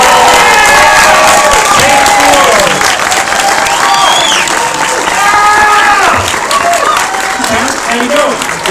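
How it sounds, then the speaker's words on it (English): Loud crowd applause and cheering for NASCAR drivers at the NASCAR Hall of Fame, steady clapping mixed with whoops and shouted voices throughout, close and full. "big round of applause for the drivers."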